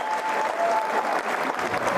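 Crowd applauding at a men's water polo match between Italy and Australia in Budapest, right after the Italian national anthem: dense, steady clapping and cheering from a large arena audience, loud and continuous throughout.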